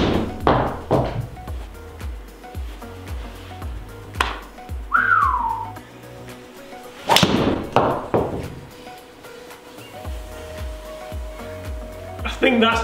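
TaylorMade M6 golf driver striking balls in an indoor studio, giving several sharp, deep thudding impacts spread across the stretch, with a person talking in between.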